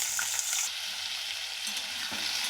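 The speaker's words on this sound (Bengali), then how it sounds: "তেলের মধ্যে আমি প্রথমে আলুগুলোকে ভেজে নেব।" Raw potato pieces, cut small, sizzle and fry steadily in mustard oil in a kadai, a continuous close crackling hiss with faint stirring and no voices.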